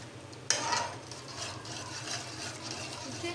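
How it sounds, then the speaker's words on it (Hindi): A milky tomato sauce is stirred in a pan on low heat, with a soft scrape of the spoon at the start followed by a quiet, steady simmering hiss and light stirring. "इसको हल्की आंच पे पकाना है और इसको हिलाते जाना है।"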